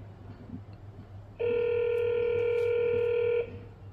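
A call device for home use plays its connecting tone, a steady electronic ringback with harmonic partials lasting about two seconds, near and clear, over a faint low hum with quiet surroundings before and after.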